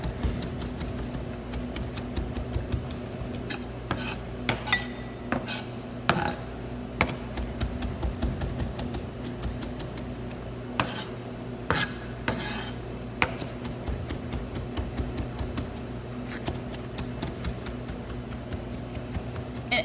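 A knife chops parsley on a cutting board with steady rhythmic taps, a long series of crisp knocks that speed up and slow down over a low kitchen hum, with no talking.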